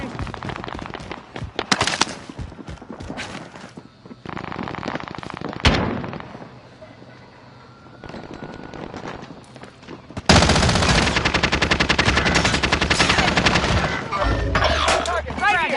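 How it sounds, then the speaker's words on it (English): Gunfire in a shooter video game comes in bursts of rapid automatic fire, loud and close, ending in a long sustained volley, with speech heard at times. "They're shooting at me."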